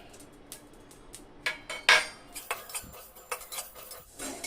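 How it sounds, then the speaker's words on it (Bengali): Metal utensil scraping and clinking against a hot pan in short, irregular strokes while dry roasting coriander and cumin seeds, close by, with no voices. "এই গরম কড়াই আমি ধনে আর জিরাটাকে শুকনো ফেলে একটু টেলে নিব"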